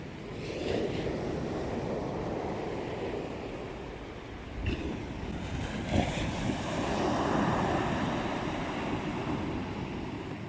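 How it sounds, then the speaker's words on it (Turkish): Sea waves break and wash steadily onto a Turkish shore in rough weather, a continuous roaring surf with wind buffeting the microphone and a few louder crashes midway, heard alone without speech. "Evet dalgaların büyüklüğünü görüyorsunuz."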